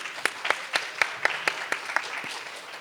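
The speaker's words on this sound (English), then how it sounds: "one more round of applause" Rhythmic, unison clapping from a conference audience giving a closing speaker another round of applause, about four claps per second, steady and fairly close, without speech.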